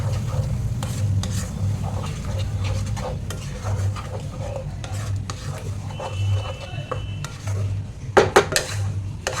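Spice masala with cumin powder, salt and a splash of water being stirred and sautéed in a pan, steady scraping and metal clatter over a low continuous sizzle, with a louder burst of clanks near the end.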